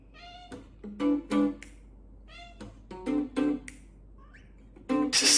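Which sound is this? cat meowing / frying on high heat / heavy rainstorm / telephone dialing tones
cat meowing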